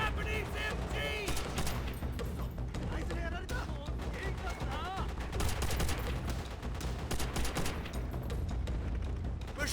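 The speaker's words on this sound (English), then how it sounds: "Enemy machine gun! Everyone on me! Japanese MG!" Japanese machine gun fire during the battle for Peleliu Island in Call of Duty: World at War, a dense, continuous barrage of rapid shots and explosions with shouting voices mixed in.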